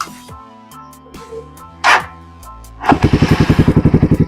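A motorcycle fitted with an SC Project exhaust and silencer revs up after a few quiet seconds, its engine building into a loud, rapid, pulsing blat that fills the end of the clip, with no one talking.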